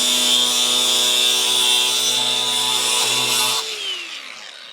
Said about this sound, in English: So I actually find that using the grinder is probably the best way to do it